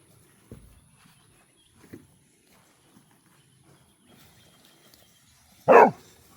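Farm dog giving a few soft, scattered sounds and then one sharp, loud bark near the end, heard close against an otherwise quiet room.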